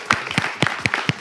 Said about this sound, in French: Bien, on va continuer à les applaudir.